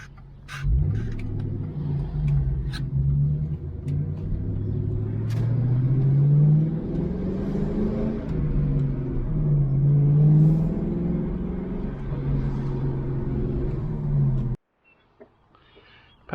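A car engine revs in a steady, rumbling drone that rises and falls over several seconds, fairly close, then cuts off abruptly near the end with no talking.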